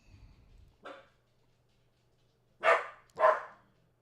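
A dog gives a single bark, then after a pause two louder barks in quick succession, heard close against a quiet background.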